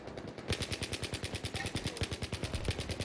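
A steady burst of rapid machine-gun fire from Battlefield 3 rattles on for about two and a half seconds after a brief quiet start, each shot crisp and evenly spaced at moderate loudness.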